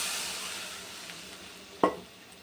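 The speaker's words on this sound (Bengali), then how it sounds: "মশলাটা কষানো হয়ে গেছে, তেল বেরিয়ে গেছে, জল দিয়ে দিলাম" Water is poured onto cooked-down spices and oil for a katla fish curry, giving a fading hiss of sizzling and a single sharp clink near the end, with no talking.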